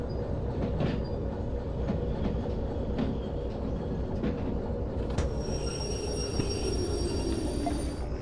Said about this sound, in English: And then I'm gonna turn this train around